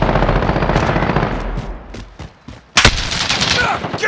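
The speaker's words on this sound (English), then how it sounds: "Getting shot at!" Rapid automatic fire from a Call of Duty: Modern Warfare hardpoint match rattles loud and close, a dense stream of shots that briefly drops away before a sharp burst resumes, with faint game voices in the background.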